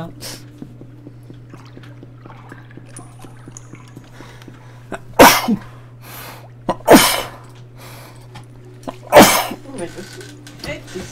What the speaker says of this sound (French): Désolé pour cet éternuement.